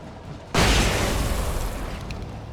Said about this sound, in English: I do like the little flashbangs